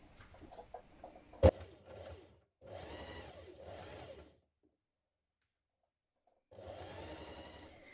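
Sewing machine edge stitching lining and main fabric together along the back opening edges of a McCall's 7910 jumpsuit: close, rapid mechanical whirring in three runs separated by pauses, with a sharp click early on.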